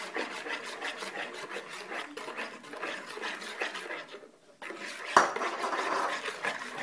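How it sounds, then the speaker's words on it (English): Caster sugar being stirred into a mashed potato mixture for potato bread gives a steady rasping scrape against the bowl, with one sharp knock near the end and no talking. "we stir in the caster sugar."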